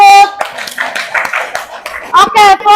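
A classroom group of students applauding a presenting group, a short burst of clapping mixed with children's chatter and a loud voice before and after.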